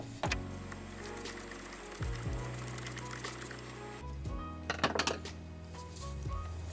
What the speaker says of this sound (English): let's loosen up this screw so we can take this air intake hose out of the way